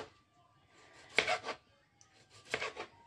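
A knife chops food into pieces for pet snails, giving two short bursts of cutting and scraping against a board, quiet and close with no talk.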